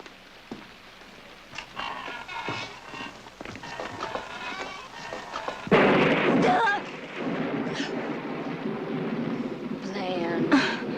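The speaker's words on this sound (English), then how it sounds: "Are you still scared of the thunder?" Thunder rolls in with a loud, deep rumbling burst midway through a film scene, sustained for several seconds while people keep talking over it.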